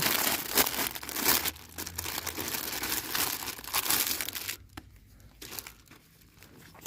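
Packaging around a Nowax NX68442 microfiber cloth crinkles and rustles as it is opened up close, with continuous crackling plastic handling that turns quieter and more sporadic toward the end.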